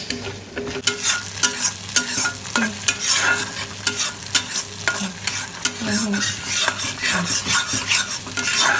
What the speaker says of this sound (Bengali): এটাকে ভালো করে এখন ভাজতে হবে যতক্ষণ না তেলটা বেরিয়ে আসছে